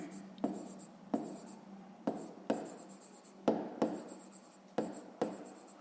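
A math solution for a fifth-grade exercise is handwritten, about nine crisp pen strokes in irregular bursts, close and fairly quiet, with no voice over them.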